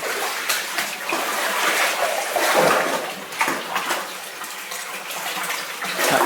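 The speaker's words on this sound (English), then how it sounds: "That pipe is draining the water from somewhere." Steady rushing water pouring and splashing as it drains from a pipe, a constant outdoor flow from close by with no talking.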